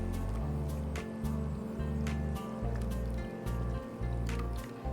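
A spoon stirs salt and a pinch of turmeric into millet soup in a pot, giving soft repeated liquid squishes and sloshes in a steady rhythm, close and fairly loud with no speech.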